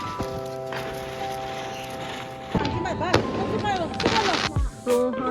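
Diwali firecrackers burst outdoors at a home near a lake in Himachal. After a steady hum come sharp cracks and crackling pops in quick succession, with voices in the background.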